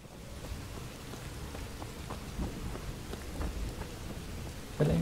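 Steady rainfall pours in the Fallout 4 game world, a dense even patter with scattered drop hits and a low rumble beneath, ending on a brief louder burst.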